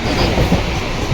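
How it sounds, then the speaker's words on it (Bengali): A train in motion with a steady, loud rumble and faint wheel clatter, heard from inside a carriage on a trip toward Barrackpore. "ট্রেনে চলেছি।"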